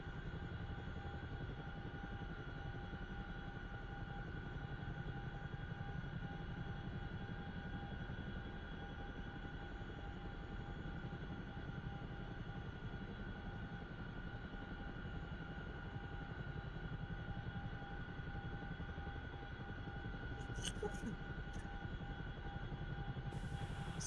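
A steady, droning Chinook helicopter rotor and engine hum in a flight simulator game holds constant throughout, with brief sharp clicks near the end.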